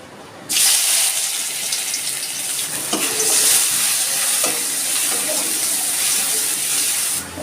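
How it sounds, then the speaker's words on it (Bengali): Crushed garlic fries loudly in a hot pan, a steady bright sizzle that starts abruptly and is broken by a few sharp stirring knocks, then keeps hissing as water goes in. "রসুনটা ভাজা ভাজা হয়ে গেছে, আমি এর মধ্যে একটু জল দিয়ে দিচ্ছি।"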